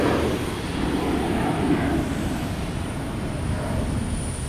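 A JetBlue airliner departs Logan Airport, bound for Liberia, giving a steady, loud broadband engine roar that holds evenly throughout with a faint high whine above it and no voices.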